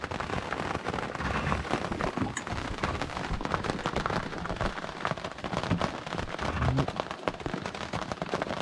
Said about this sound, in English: Well, not only is there no wind, it's now raining.